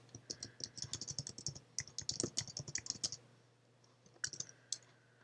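Rapid bursts of keystrokes on a computer keyboard entering text in a word processor, close and clear, with a short pause before a few final taps, over a faint background hum.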